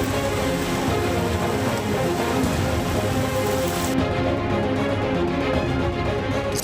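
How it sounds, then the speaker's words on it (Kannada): Heavy rain pours down in Chikmagalur, Karnataka, making a dense, steady, loud hiss of drops on surfaces that continues without a break and has no voices. "ಚಿಕ್ಕಮಗಳೂರಿನಲ್ಲಿ ಗುಡುಗು ಸಹಿತ ಭಾರೀ ಮಳೆಯಾಗಿದ್ದು"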